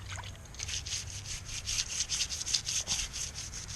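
Grime and corrosion are scrubbed off a 2011 car battery. Close, rhythmic brushing strokes rasp back and forth steadily, with no talking.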